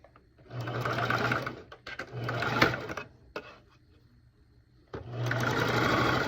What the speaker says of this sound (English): I'm just gonna sew this onto the skirt